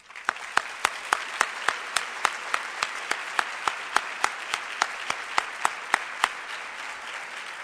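The crowd at the YWCA We Believe 2011 event applauds the YWCA, a sustained round of clapping with sharp, evenly spaced claps standing out over a dense background of many hands, lasting several seconds before tapering slightly.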